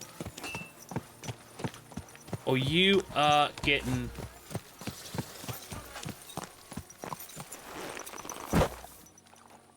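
Horse hooves clip-clopping at a steady walking rhythm in Kingdom Come Deliverance 2, crisp and close throughout, with someone speaking over the footfalls and a brief creaky vocal-like sound in the middle.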